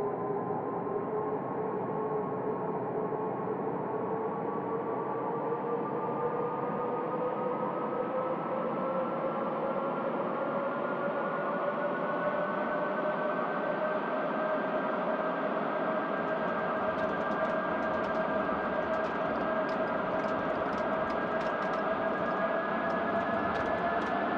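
Boeing 757-200F freighter engines spooling up for a takeoff roll on runway 33L in a flight simulator, a steady rising jet whine with a low rumble that builds late, continuous and without talk.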